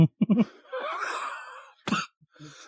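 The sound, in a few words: cough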